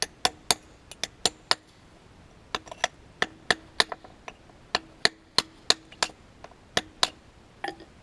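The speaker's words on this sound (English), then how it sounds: "put it upright like this and start coming at it with the chisels." Sharp metallic strikes of a hammer driving chisels into a Montour County sandstone block, a steady series of about twenty crisp close taps with short gaps, ringing slightly, without talk.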